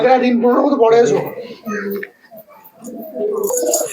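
A female pigeon coos in soft low murmurs among other pigeons, heard close by beneath nearly continuous human talk.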